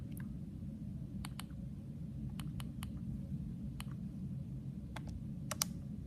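Keys on a graphing calculator keypad are pressed in short, crisp clicks, about a dozen scattered in pairs and singles over a low steady background hum, with no talking.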